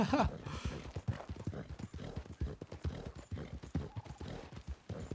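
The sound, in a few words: horse hooves from video game Red Dead Redemption 2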